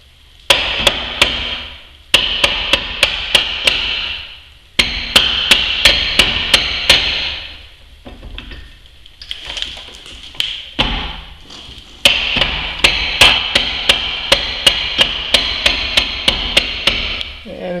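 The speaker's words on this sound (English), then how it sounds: "This is where I use the rubber hammer." Repeated sharp rubber hammer strikes on a Chrysler Pacifica brake part, fast bursts of blows separated by brief pauses, close and loud.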